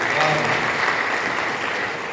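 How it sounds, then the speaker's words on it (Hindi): Audience at an indoor gathering breaks into applause for a speaker, a brief, dense burst of clapping that stays steady and fades slightly near the end. "एक शानदार ताली बजाइए सर के लिए"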